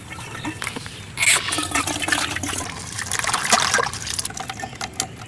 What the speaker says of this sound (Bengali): এখন উস্তাগুলো ভালো করে ধুয়ে নিব, তারপর আমরা রান্না করব